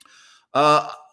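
A cat meows once, a single clear mid-pitched cry close to the microphone, following a brief stretch of quiet background noise.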